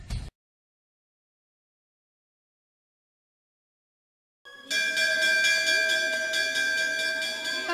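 A bell rings with a sustained, steady metallic tone that starts abruptly after a brief click and a long stretch of silence, then holds evenly to the end.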